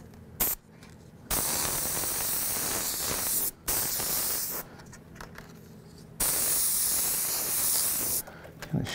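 An airbrush sprays paint freehand in a realistic flame design, giving a steady airy hiss in several long bursts separated by short pauses, close and fairly quiet with no talking.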